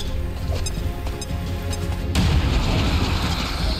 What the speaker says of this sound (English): Throw a grenade there. Fire in the hole!